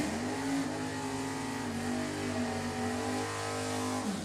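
Nostalgia drag race cars in the D gas class rev at an NHRA Heritage Series event, a loud, sustained engine drone heard from a distance with a slight pitch shift before it falls away at the end.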